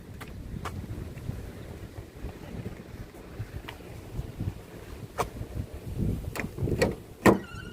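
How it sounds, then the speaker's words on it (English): Strong gusty wind outdoors buffeting the microphone in an uneven rumble, with a few sharp clicks and knocks nearby and a louder thump near the end. "Damn, it's so windy."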